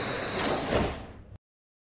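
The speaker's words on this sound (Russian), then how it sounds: "Осторожно, двери закрываются." A Rusich train on the Moscow metro closes its doors at Filyovsky Park station: a loud pneumatic hiss and sliding rush that fades and then stops abruptly with a final thud.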